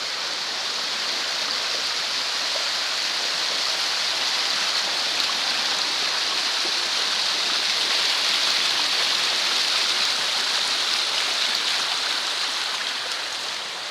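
Palapasan Falls in Negros Oriental, Philippines pours as a steady, loud hiss of rushing water, unbroken and close by, with no voices.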